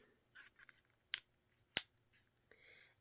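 Sheath being put back onto a pair of sharp Precision 2 scissors: a few faint plastic rustles and scrapes, then two sharp, distinct clicks as it snaps on, followed by a soft sliding scrape, close and quiet.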